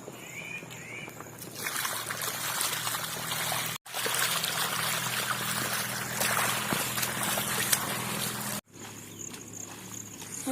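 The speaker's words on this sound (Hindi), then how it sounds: "देखिए पानी आ गया और यहाँ पर पानी गिरेगा" Steady gushing water pours continuously from an irrigation pipe on a village farm, close and fairly loud, with two brief cut-outs along the way.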